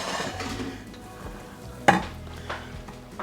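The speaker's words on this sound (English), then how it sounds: "Then we're just going to mix well and get those noodles incorporated." Cooked spaghetti noodles being stirred into a chicken spaghetti casserole mixture, soft wet squelching with a sharp utensil clink against the bowl near the middle, close and quiet.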